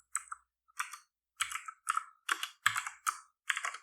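Code for a competitive programming problem being typed on a computer keyboard: short bursts of crisp key clicks come in quick clusters separated by brief pauses, fairly quiet and close, with no voices.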